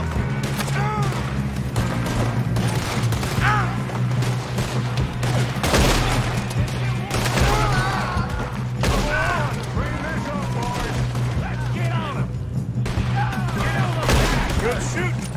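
Repeated gunshots and fast rifle fire in Red Dead Redemption 2, loud sharp cracks scattered steadily through a long shootout, mixed with mechanical clicks and shouting voices over a low droning music bed.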